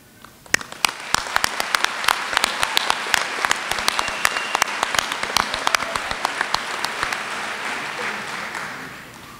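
Applause for the University of Northwestern Ohio class of 2022 at a graduation ceremony, a large crowd clapping in a sustained dense roar with sharp individual claps on top, building quickly and holding before fading.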